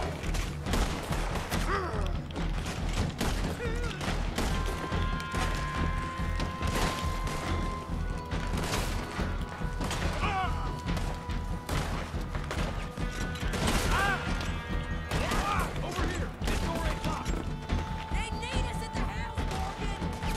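Gunfire in Red Dead Redemption 2, dense overlapping shots and crashes in a chaotic fight that runs continuously throughout, loud and busy, with a voice talking now and then.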